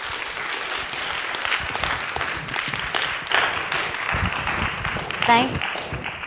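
An audience applauds steadily to welcome a speaker, Dr. Karen Kelsky, at a talk about turning a PhD into a job, the clapping dense and continuous throughout.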